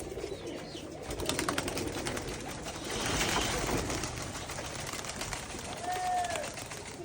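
Pigeons cooing close by at a rooftop loft of caught birds, soft low coos amid rustling and faint chirps, with a brief whistle-like call near the end.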